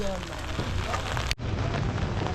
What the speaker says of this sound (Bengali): বুঝতেই পারছেন বৃষ্টি পড়ছে ছাতা মাথায়